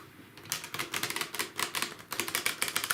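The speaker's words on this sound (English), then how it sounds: "I'm just sitting here shuffling the cards" Tarot cards riffle shuffled in a quiet morning setting, a close series of rapid crisp fluttering bursts that come in several quick runs with brief pauses between them, heard alone.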